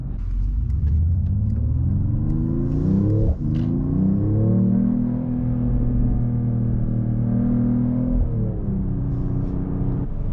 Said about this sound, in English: Driving the new E53 here in Sport Plus